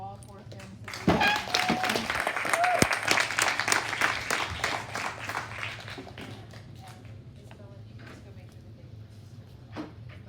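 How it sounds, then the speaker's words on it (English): Applause for four films at a youth media summit rises abruptly, a crowd clapping for a few seconds before thinning out, with a voice and some thumps and clatter mixed in. "One more round of applause, please, for all 4 films."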